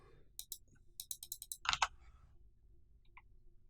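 Quick, light mouse clicks in a programming app, a short burst of sharp taps close up with a couple of fainter clicks afterward in a quiet room.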